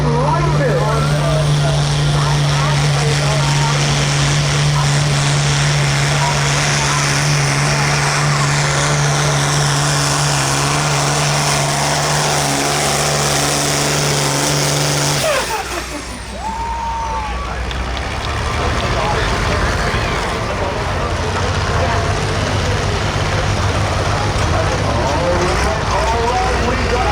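A light pro field tractor, a Massey, roars under heavy load during a tractor pull in Oak Grove, Missouri, its loud, sustained engine note with a steady tone and an announcer's voice over it.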